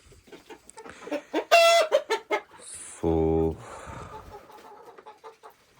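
Hens cluck in a hen house during winter. Several close, separate clucks and squawks come in an irregular run, with one loud drawn-out squawk midway and softer clucks trailing after.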